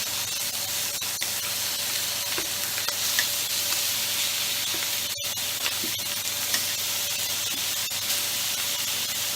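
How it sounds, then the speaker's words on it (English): Chicken pieces sear in a hot pan for firecracker chicken, giving a steady close sizzle and hiss throughout, with a single sharp click partway and no talking. "we're just going to flip these over and sear the other side"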